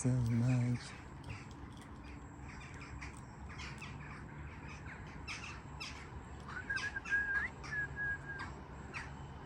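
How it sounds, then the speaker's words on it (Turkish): Crows caw outdoors in scattered calls, moderately distant, alongside a thin whistling tone and light background noise; someone talks briefly at the start. "Çok karga oldu lan hiç sevmedim yine."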